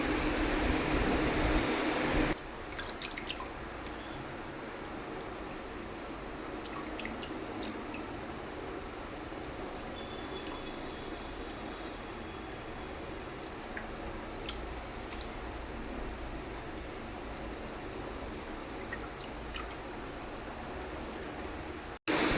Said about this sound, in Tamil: இப்போ நான் எல்லா போட்டையும் வந்து நல்லா இப்படி அலசி எடுத்து வச்சுக்கிறேன் தனியாக ஒரு பவுலில்